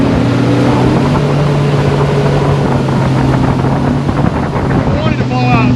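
Mercury outboard motorboat fitted with a Tempest 25 propeller runs at a steady drone, loud and close, with heavy wind buffeting and water rush throughout.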